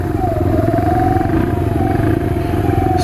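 A Sinnis Scrambler motorcycle rides along, probably in the rain, its steady engine drone loud and close throughout with a faint rising whine over the top.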